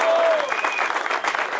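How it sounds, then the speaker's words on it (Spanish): Applause from a crowd at a company football tournament final in Confenalco, honoring the runner-up team Home Clean; a brief, dense burst of clapping with a voice faintly mixed in. "El equipo subcampeón, Home Clean, un aplauso para ellos."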